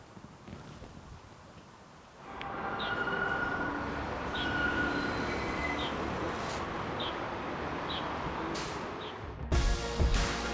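A metro train passes through a residential building in China, a loud, continuous rumble and roar that rises after a quieter start and holds steady, with a brief clatter near the end.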